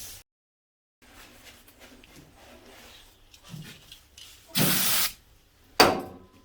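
Brake cleaner sprayed from an aerosol can onto parts of a Suzuki DR200 engine during a service: two loud hissing bursts, one about half a second long and a shorter one after, over quiet workshop handling noises.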